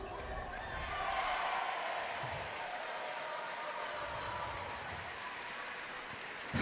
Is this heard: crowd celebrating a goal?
yes